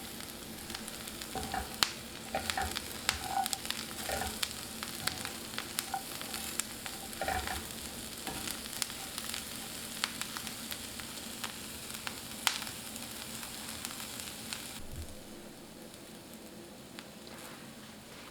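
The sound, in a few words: Brussels sprouts sautéing in a pan over medium heat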